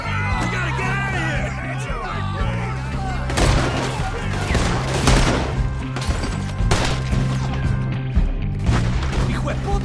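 Scattered gunfire in the Red Dead Redemption 2 video game, repeated sharp shots and bursts over a dense layer of game music, with shouting voices mixed in throughout.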